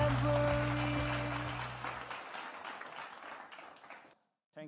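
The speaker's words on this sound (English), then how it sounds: "Let's give our chairperson of the APR Scout Committee a big round of applause." Audience applause at the opening ceremony of the 33rd Asia-Pacific Regional Scout Jamboree, a broad wash of many hands clapping that swells loudly at first, then fades out over a few seconds beneath a fading musical tone.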